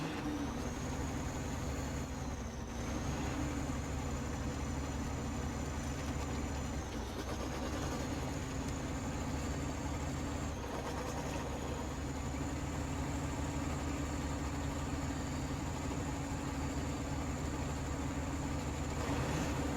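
A big-tyred tractor in a farming video game drones steadily through rutted ground, a constant low engine hum with a faint high whine above it, unbroken and without speech.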